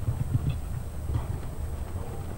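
Horse hooves thud faintly over steady low rumbling background noise at an outdoor show jumping competition, an Italian championship at La Bagnaia in 1994, the footfalls soft and somewhat masked.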